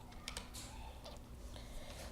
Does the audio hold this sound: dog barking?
no